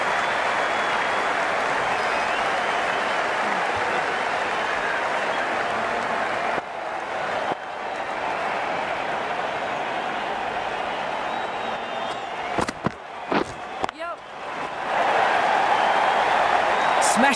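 Steady crowd applause and cheering from a stadium crowd in the Cricket 19 video game, a continuous broad roar lasting throughout with brief dips and a swell near the end, under commentary.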